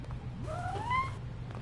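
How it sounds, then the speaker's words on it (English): A cat in the video game Dreams gives a single rising meow lasting about a second over a low game hum. "Who's meowing?"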